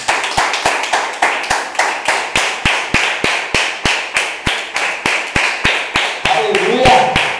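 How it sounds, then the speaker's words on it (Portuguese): A church congregation claps in unison at a sermon, producing a steady, rhythmic beat of sharp claps at about three per second, loud and sustained, with a voice briefly rising near the end. "Pode sentar e aplaudir o Senhor Jesus,"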